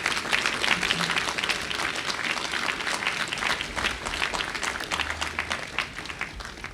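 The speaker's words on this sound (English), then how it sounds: "let's give the Kelly family a round of applause." Crowd applause at a dedication ceremony: a continuous, fairly loud bed of many people clapping, even and unbroken from start to finish, with no speech on top.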